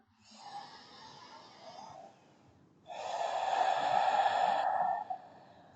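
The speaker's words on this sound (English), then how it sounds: "Breathing nice and deep." Two long, deep yoga breaths follow each other, a softer drawn-out inhale and then a louder, fuller breathy exhale lasting several seconds, close and alone without talk.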